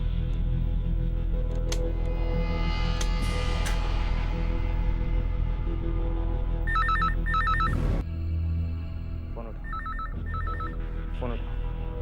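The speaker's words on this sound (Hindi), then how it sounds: "लड़की चल फोन उठा।" A telephone bell rings in repeated double bursts in a Hindi crime drama scene, loud and close over a steady low background hum, with voices talking around the rings.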